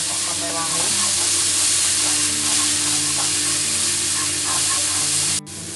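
Spice paste for grilled spiced chicken being stir-fried in a pan, a loud, continuous close sizzle and hiss with scraping stirring strokes throughout, cutting off briefly near the end.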